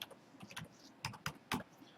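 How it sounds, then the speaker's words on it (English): Quiet typing on a computer keyboard, a handful of soft irregular key clicks in quick succession, close and alone. "so you guys can see how I do the typing as well"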